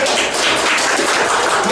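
A short burst of applause from a small group at an outdoor gathering, brisk, fairly close hand claps filling the moment without pause.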